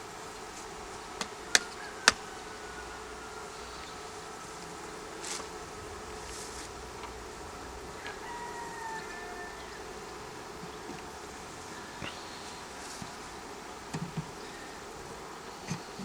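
A bee swarm buzzing outdoors, a faint continuous hum of many insects with individual bees droning past nearby, broken by a few sharp taps early on; no one talks.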